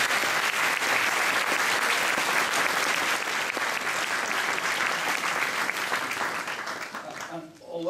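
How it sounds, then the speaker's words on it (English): A school audience at a certificate presentation evening gives a big round of applause after two music performances; the clapping is full and steady, then thins out and fades near the end. "So another big round of applause."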